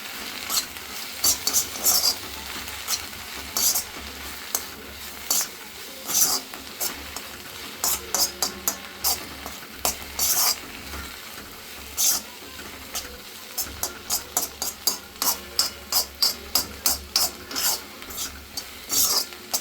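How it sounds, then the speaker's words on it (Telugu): Amaranth leaf fry with turmeric is stirred in a pan, giving a steady run of quiet scraping and rasping strokes with a faint sizzle underneath. "పసుపు వేసుకొని ఒకసారి దీన్ని బాగా కలుపుకుందాం."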